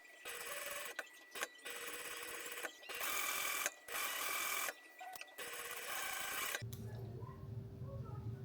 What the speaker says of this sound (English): I'm sewing at a 3/8 inch seam allowance.